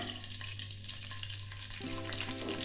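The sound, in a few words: cumin seeds frying in hot oil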